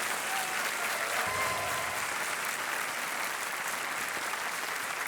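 Studio audience applause on a TV quiz show after a big cash win, a continuous even roar of clapping held steady throughout.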